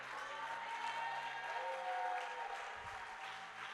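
Church congregation applauding during a worship service, a dense steady wash of many hands clapping with some crowd noise, continuous and fairly even for a few seconds.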